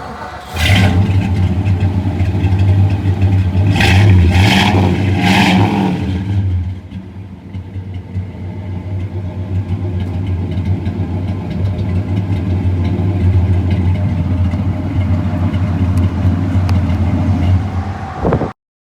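A 1955 Ford Crown Victoria Skyliner with a 272 Y-block V8 cranks over in a few loud bursts and catches. It then settles into a steady, rumbling idle up close until it cuts off abruptly.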